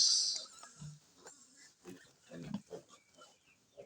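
Pigs grunt and snuffle close by in short irregular bursts, with a high squeal at the start and scattered low grunts throughout, around a sow that has just farrowed.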